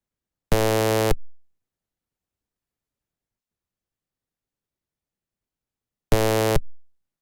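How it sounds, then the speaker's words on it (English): An additive-synthesis wavetable tone plays as two short, bright, buzzy bursts of about half a second each, separated by several seconds of complete silence. "here actually we can listen to this wave table"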